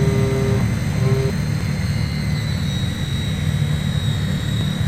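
Twin engines of a Cessna 337 Skymaster on final approach, with the landing gear extended, a steady loud drone and low rumble throughout, a brief tonal whine near the start.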